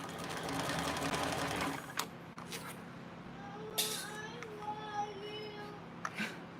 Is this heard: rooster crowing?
no